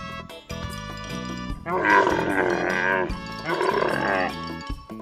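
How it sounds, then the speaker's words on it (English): A camel gives two loud, drawn-out groaning bellows that rumble and gurgle, each lasting over a second, with a short pause between them and calmer low sounds before and after. "Camel."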